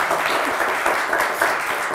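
Studio audience clapping on a Turkish television word game show, a brief steady wash of applause, close and fairly loud, with no voices over it.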